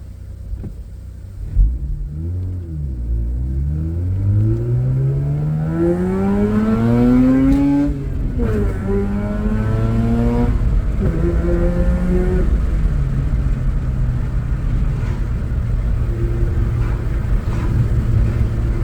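A Mazda RX8 R3 with its check engine light on revs hard through rising, falling engine sweeps and then settles into a steady drive, loud and close with no talking.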